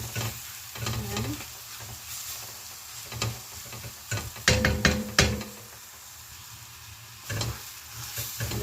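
Chicken breast coated in masala stirred in a pan, a steady low sizzle broken by a few scraping spoon strokes and clacks against the pan.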